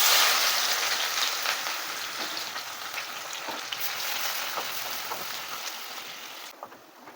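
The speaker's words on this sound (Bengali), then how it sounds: "এবার এই পেঁয়াজটাকে আমি এর মধ্যে ভেজে নেব" Thinly sliced onion frying in hot oil in a pan for beresta, a steady crackling sizzle that holds fairly even throughout and then drops off near the end.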